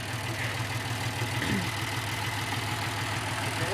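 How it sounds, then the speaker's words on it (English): Tractor engine running at a low, steady idle, a faint continuous rumble with no other sounds. "This is like tractor driving"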